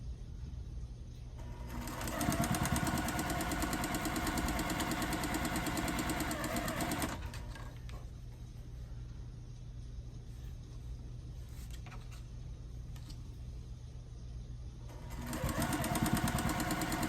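A sewing machine runs steadily while stitching quarter-inch seams beside the center line of half square triangle quilt squares, with a continuous motor whir that pauses mid-clip and then resumes.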